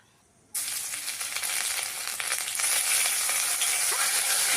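Ginger and green chilli paste dropped into hot oil with cumin seeds already tempering, bursting into a loud, steady sizzle after a brief quiet start and holding a bright crackling hiss to the end, no talking.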